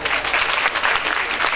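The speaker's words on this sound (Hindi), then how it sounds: "इस पे आप सारे लोग उस बच्ची के लिए, वो अरीबा की बहन है, उसके लिए तालियां बजाएं" Audience applause for a schoolgirl who earned a top exam position, dense steady clapping from a crowd, moderately loud and continuous throughout.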